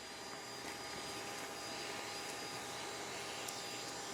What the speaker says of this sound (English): put the vacuum nozzle right over them and suck them up